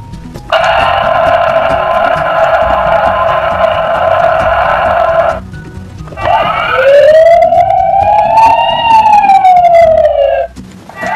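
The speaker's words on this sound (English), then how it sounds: "Here comes the police car!" A Paw Patrol toy police car's siren wails loudly: a long steady electronic tone, a brief pause, then a rising and falling electronic whoop that cuts off.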